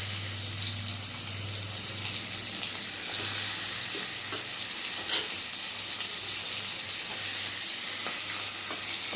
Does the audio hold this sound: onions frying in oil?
yes